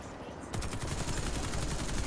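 Close, loud automatic gunfire in the Warface Spec Ops shooter game, starting with a sharp burst of fast, evenly spaced shots that continues steadily to the end.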